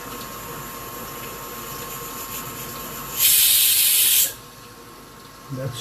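A pressure cooker whistle blasts steam in a loud hiss lasting about a second over steady kitchen background noise, then cuts off, with a faint clatter after.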